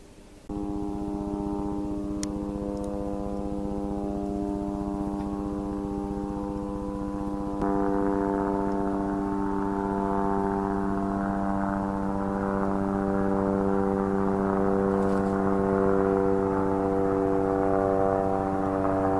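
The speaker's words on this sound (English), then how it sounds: "Sounds like a chopper coming in these parts." A droning helicopter rotor and engine hum, steady and fairly loud, growing slightly stronger partway through as a yellow helicopter comes nearer.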